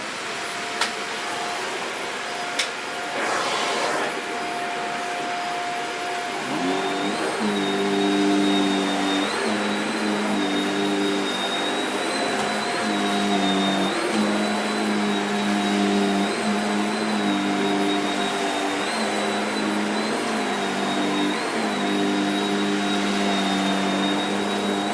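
A Shark Powered Liftaway NV681UKT vacuum cleaner switches on after a few faint clicks, then runs with a loud, steady whine and hum up close.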